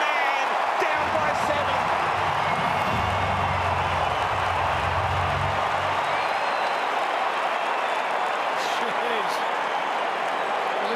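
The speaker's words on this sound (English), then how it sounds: "Crowd's gone mad." At the 2021 AFL Grand Final between Melbourne and the Western Bulldogs, a huge stadium crowd roars and applauds after a goal by Fritsch, a sustained dense wall of noise with a commentator talking over it.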